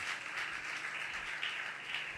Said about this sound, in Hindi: वाकरू के लिए जोरदार तालियां बजाएं